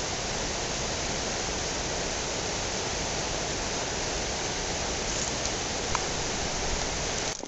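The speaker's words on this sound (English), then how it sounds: "it is just pouring through Willow Creek here in the Sierra National Forest." Snow-melt water pours through Willow Creek in the Sierra National Forest, a dense, steady rushing roar that fills the whole stretch evenly and sounds close and full.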